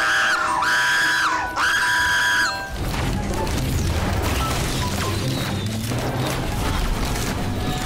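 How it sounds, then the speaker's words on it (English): Shrill, loud screaming from several people over chaotic game noise in Risk of Rain 2, a wailing scream for the first two and a half seconds, then a dense burst of booms, crashes and rapid-fire explosions. "Stop screaming! Stop!"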